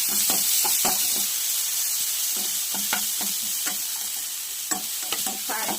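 Ginger garlic paste frying in a pan and stirred, a constant bright sizzle overlaid with repeated scraping strokes of a spoon at an uneven rhythm, close and fairly loud.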